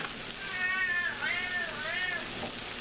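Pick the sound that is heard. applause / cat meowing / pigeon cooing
cat meowing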